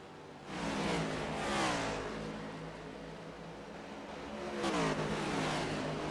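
Stock car engines racing at Homestead in the iRacing Stock Car Cup Series video game, a loud sustained roar with rising and falling pitch as cars pass, surging again near the end.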